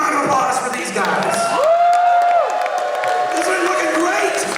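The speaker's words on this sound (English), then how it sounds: "Give a big round of applause for these guys." A crowd at a live announcement event breaks into loud, sustained applause and cheering with whoops, the clapping filling the whole stretch as a steady wash around the room.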